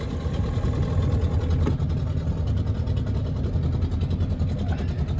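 The 1969 engine of a 14-foot 1969 Glasspar Tacoma boat runs at a steady idle on launch day, a continuous low rumble close by with a faint rhythmic pulse.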